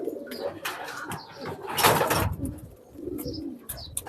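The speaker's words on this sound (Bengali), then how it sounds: "খুবই সুন্দর কবুতর" Pet pigeons kept in a loft for sale coo close by in soft, rolling calls with a louder swell midway, over a busy background with no talking.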